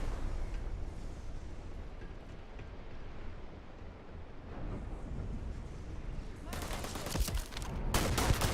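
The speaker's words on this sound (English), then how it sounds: "Yeah, they're openly shooting me." Enemy gunfire in the video game Starfield crackles in a low, distant-sounding rumble at first, then erupts into loud, rapid bursts of shots near the end.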